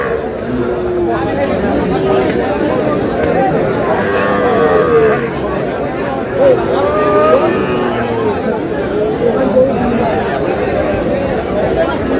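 Young bull calves about seven to eight months old at a Bangladeshi cattle market in Natore and Meherpur, giving occasional drawn-out moos amid a steady crowd hubbub and nearby talking.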